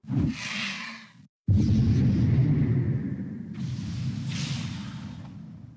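An Arcane Storm spell effect from a dragonkin character's ability set in a video game: a short whooshing burst, a brief silence, then a long rumbling swoosh that slowly fades, with a hissy swell near the end.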